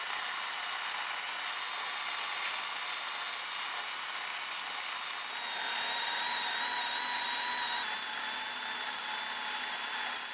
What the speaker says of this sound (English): a Forstner bit is going to be the best tool for the job in this situation